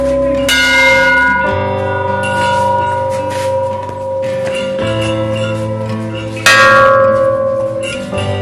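Large and small temple bells ring repeatedly at a hilltop shrine in Uttarakhand, loud and close, with two sharp fresh strikes and long overlapping metallic resonance between them, with no talk.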